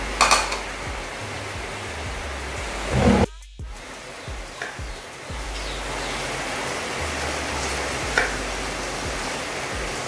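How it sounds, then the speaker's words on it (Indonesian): Heavy rain pours steadily outside a home kitchen, a dense continuous hiss broken only by a brief clatter and a short drop in the middle. "Hujannya tambah deras."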